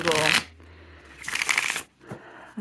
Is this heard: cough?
no